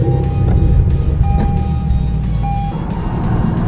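Loud, close engine roar from a Lexus RCF or Toyota Supra at a race, a steady deep rumble with a thin high whine, holding strong through the short stretch with no talking.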